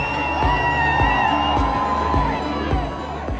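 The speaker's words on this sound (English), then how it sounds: "the crowd went wild" A crowd in Brixton, London cheers and shouts loudly and close up for Meghan and Harry at a royal public engagement, with steady rhythmic thumps beating beneath the din.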